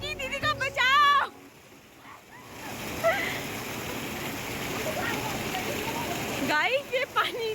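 Water rushes in a continuous, broadband roar at a dam, loud and close, with voices talking briefly at the start and near the end.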